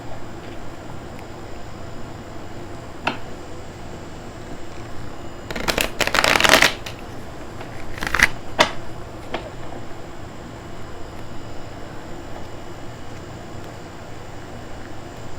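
A tarot card deck is riffled and split in two bursts of crisp shuffling, the first longer and louder, against a quiet room with faint background hiss.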